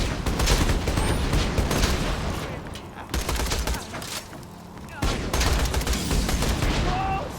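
Rapid bursts of video-game gunfire aimed at Flint, loud and dense in several volleys with short breaks between them, with faint voice bits in the mix.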